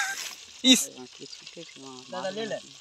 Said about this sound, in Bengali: আর এখানে ফুলকপি ফ্রাই হচ্ছে